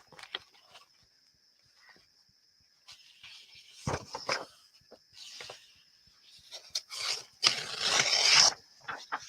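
A sheet of crunchy, soft music paper printed with piano pieces is handled in a creative studio, giving sparse scrapes and crinkles that grow into louder, denser rustling toward the end.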